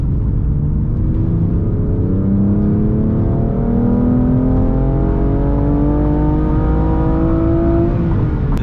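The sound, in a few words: BMW M3 engine revving, accelerating in third gear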